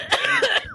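A single short, sharp cough, close and fairly loud, over in under a second.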